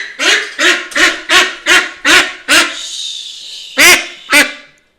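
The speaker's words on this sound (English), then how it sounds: "Yeah, there's a duck inside now." A large duck indoors gives a run of loud, harsh quacks in a steady rhythm, about nine calls close to the listener, with a short break before the last two and no talking.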